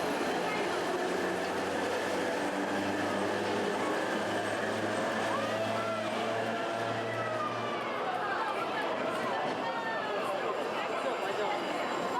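A retro Series A Moscow metro train rumbles and whines as it pulls away from Park Kultury station, its low hum fading partway through while station noise and distant voices continue.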